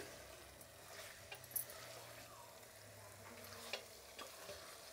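Masala with coconut paste is stirred as it fries in a pan on low heat, making a soft, close, continuous sizzle broken by a few scraping stir clicks.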